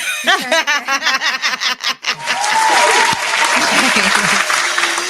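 Applause from a live audience rises after about two seconds and runs steadily to the end. Several people talk and laugh over it at the start.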